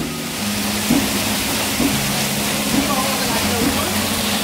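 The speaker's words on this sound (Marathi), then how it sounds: "पाऊस बघा किती खूप पाऊस पडलाय" Heavy rain falls outside an old Shiv temple surrounded by water, a dense steady hiss near and loud, with a voice talking beneath it and periodic low thumps.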